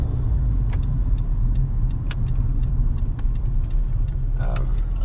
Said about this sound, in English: it looks like cars are coming from that side